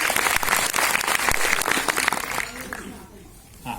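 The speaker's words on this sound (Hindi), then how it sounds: "सर के लिए एक बार शानदार ताली।" A seminar audience bursts into loud, dense applause that fills the room up close, then tapers off toward the end; no spoken words.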